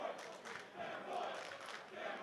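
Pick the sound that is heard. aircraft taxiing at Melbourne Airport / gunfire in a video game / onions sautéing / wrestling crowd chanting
wrestling crowd chanting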